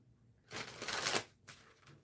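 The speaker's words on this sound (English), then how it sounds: "I think I got to do one more shuffle for you, Hannah" A quick, close riffle of tarot cards shuffling, a soft papery burst followed by a short second flutter, quiet and alone.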